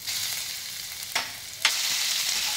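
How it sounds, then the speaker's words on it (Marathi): Ginger garlic paste hits hot oil already holding fried whole spices for a dhaba-style cashew masala gravy: a loud, close, continuous sizzle, broken by two sharp bursts as the paste lands and is stirred. "आता याच्यात आपण आलं लसूण पेस्ट टाकूया।"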